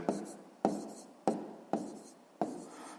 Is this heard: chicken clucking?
no